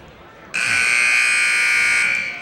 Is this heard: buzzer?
yes